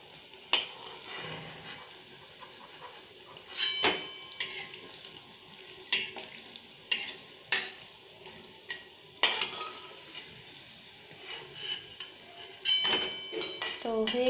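Chhana bora (cottage cheese fritters) fry in oil over a lowered flame with a soft continuous sizzle, broken by repeated clinks and scrapes of a stirring utensil against the pan.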